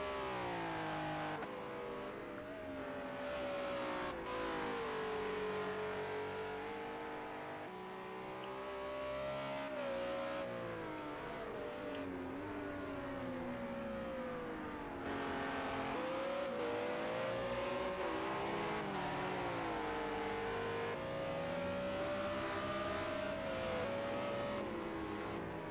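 An onboard race car engine in a sim racing time trial revs up and down through gear changes in long rising and falling sweeps, loud and continuous, with no talk.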